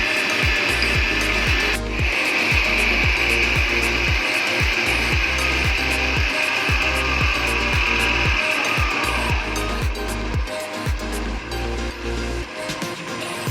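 An electric mixer beats sugar and vanilla into cake batter, giving a loud, steady whirr with a rhythmic scraping pulse that runs throughout without pause.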